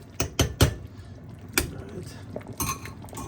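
A spoon knocks and scrapes against the side of a pot of Jamaican one-pot soup in a quick stir, giving a handful of loud, close clinks spaced irregularly.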